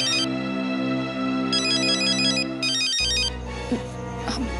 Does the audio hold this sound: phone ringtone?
yes